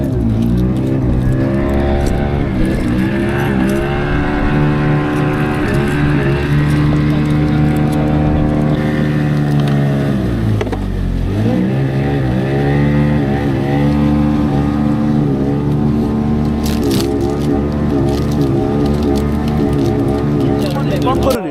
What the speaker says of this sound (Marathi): आपली ही बोट आहे सांताक्रूज